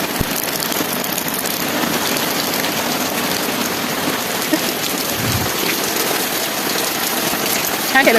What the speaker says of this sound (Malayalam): മഴ, നല്ല മഴ, നല്ല മഴ, നല്ല മഴ.